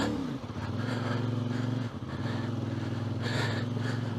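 A CFmoto 450MT motorcycle loaded with luggage riding off-road, its engine droning steadily with pitch shifts as the throttle changes, close and continuous.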